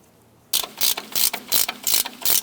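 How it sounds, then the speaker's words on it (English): A hand ratchet clicks rapidly in five or six quick bursts, loud and close, while upper strut nuts are snugged down on a 2004-2012 Chevy Colorado front strut and spring assembly. "Let's go ahead and get our upper strut nut started here. And we'll go ahead and snug them down."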